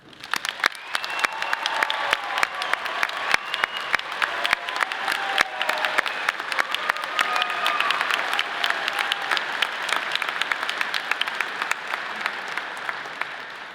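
Sustained audience applause at a fall college of natural sciences commencement, honoring program graduates; dense, steady clapping from a large crowd that holds at full strength for the whole stretch with a faint cheer or two.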